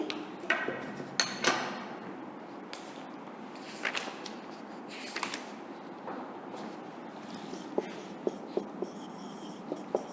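Pen scratching out answers on paper during an English revision lesson, with short scribbles and light taps in an irregular rhythm, close up in a quiet room.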